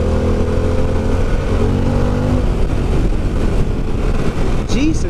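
A Harley-Davidson Pan America motorcycle ridden fast, with a loud, constant engine drone and wind rush close up that holds a steady pitch before shifting, and a rider talking over it.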